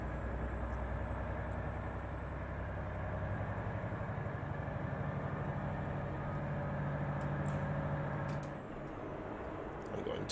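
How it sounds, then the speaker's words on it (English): A heavy truck's engine at low RPM in Euro Truck Simulator 2, a continuous deep rumbling growl that holds steady and then eases slightly near the end, loud and close with no talk. "I love the low-end grunt with this engine. That low growl, the low RPM sounds so good."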